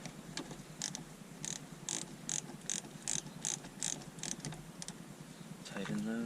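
A ratchet tightens parts while someone works on an AE82 that will not start, giving a close, even run of quick clicking strokes with brief pauses and a voice near the end.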